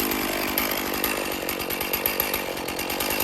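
A chainsaw strips bark from a cedar log, running loud and continuous at close range with a dense, ragged roar and no talking over it.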